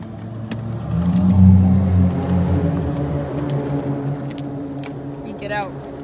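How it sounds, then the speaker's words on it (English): A car approaches along a road, its engine hum swelling loud and close before easing off, with people talking over it and a faint jingle of keys. "Oh, there's a car coming."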